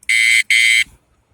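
A PADONOW wireless remote bike alarm sounds its touch warning: two loud, shrill electronic beeps in quick succession, close and alone.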